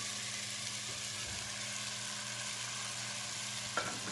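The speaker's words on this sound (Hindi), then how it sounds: "चिकन को ऐड करने के बाद अच्छी तरह से चिकन की भी हमने भुनाई करनी है।" Chicken frying in a cooked-down tomato masala for degi-style palak chicken, a steady close sizzle that runs without a break, with a brief clink near the end.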